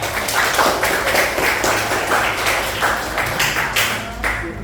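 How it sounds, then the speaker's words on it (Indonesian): Students clapping in a classroom, a loud, close patter of many hands in uneven waves that continues throughout. "Wah, ini tepuk tangan dulu."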